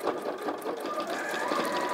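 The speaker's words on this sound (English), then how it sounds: "I'm going to sew straight across all of those pieces" Sewing machine stitching slowly in a straight line across a stack of thick fabric pieces, a steady close mechanical whir running throughout with no talk.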